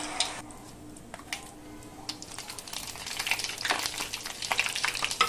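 Tempering for gongura chutney, with oil, dried red chillies, garlic cloves, curry leaves and turmeric frying in a pan, gives a faint crackle and sizzle that grows busier and louder toward the end.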